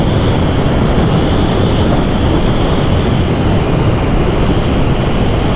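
Honda CBR1100XX Super Blackbird motorcycle ridden at speed, a steady loud roar of engine and rushing wind that holds constant throughout with no talking.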